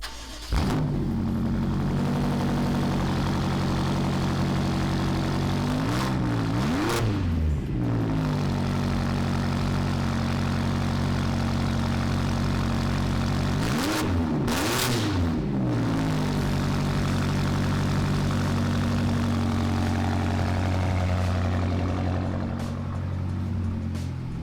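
A BMW X5 M fitted with an aftermarket Alibaba exhaust starts and idles with a steady low drone, broken by two sharp revs that rise and fall, each blip loud and close.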